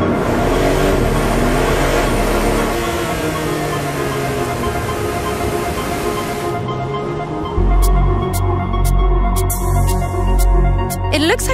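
A new Porsche 911 sports car accelerates hard, its engine revving upward in loud sweeping pulls before the sound shifts to a deeper, steady rumble.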